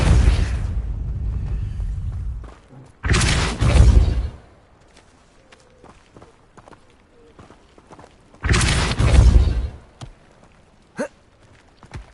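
Depulso spells cast in Hogwarts Legacy, two loud booming blasts each lasting about a second and a half, separated by quieter stretches of light footsteps and small game sounds.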